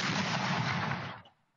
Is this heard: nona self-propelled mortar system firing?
yes